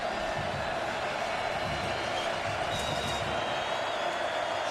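Football stadium crowd at a Texas vs. North Texas college game, a steady distant roar of cheering voices filling the background without breaks.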